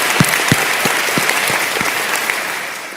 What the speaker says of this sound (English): We also want to give a hand clap.